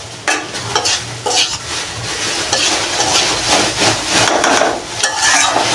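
Cabbage and potato ghonto stirred in a pan, a close, continuous scraping and sizzling with irregular spoon strokes, no voices.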